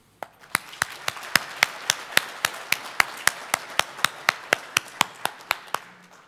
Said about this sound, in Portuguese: E eu quero pedir uma salva de palmas para a nossa profissão